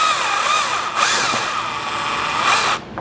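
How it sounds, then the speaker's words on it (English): A cordless power drill backs a screw out of a vinyl fence gate picket, close and loud, with steady high whining that shifts pitch slightly as the bit turns, briefly dipping near the start and stopping abruptly at the end. "Okay, so I can get in there with the drill."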